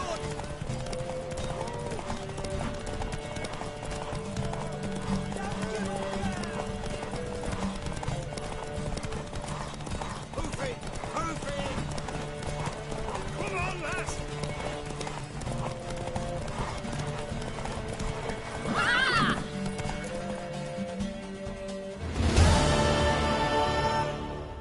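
In the video game The Witcher 3, rapid horse hoofbeats clip-clop steadily during a race under background music and voices, then the horse gives a short whinny near the end.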